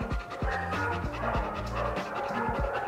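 A German Shepherd dog pants in quick, rhythmic, close breaths during a training session for aggression, steady throughout with no talk.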